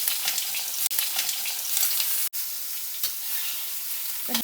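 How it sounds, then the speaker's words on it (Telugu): Stuffed bitter gourds frying in leftover oil in a pan, a dense continuous hiss and crackle of sizzling, close and steady, with a couple of brief dips where the noise cuts out. "మిగిలిన నూనెలో ఈ స్టఫ్ చేసుకున్న కాకరకాయలన్నీ వేసేసుకోవాలి."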